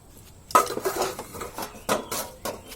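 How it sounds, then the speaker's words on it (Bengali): Leftover dishes, pots and utensils clatter and clink as they are washed, with sharp close knocks of metal and ceramic followed by scraping and rattling. "এই জন্য থাকা বাসন কটা থেকে গেছে চলো এখন ধুয়ে ফেলি"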